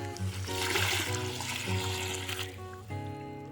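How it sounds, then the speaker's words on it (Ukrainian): Water poured from a bucket onto a freshly planted persimmon sapling in a garden planting hole, a steady close splashing trickle running for a few seconds without pause. "Так, далі заливаю воду."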